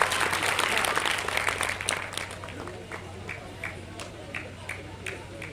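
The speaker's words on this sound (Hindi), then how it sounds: "आप लोग जोरदार तालियां बजाएं।" Dense audience applause at an all-India poets' gathering in a college hall in Benigunj, Hardoi, loud at first, then thinning into scattered claps over the last few seconds.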